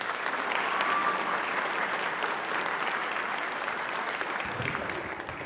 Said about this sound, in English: will you help me welcome her to the podium with a round of applause?